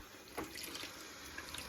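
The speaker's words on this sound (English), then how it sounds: "I'm going to go ahead and turn the hot water on" Hot water runs from a faucet in a Heartland Trail Runner travel trailer, a quiet, continuous hissing flow with faint splashing and no voices.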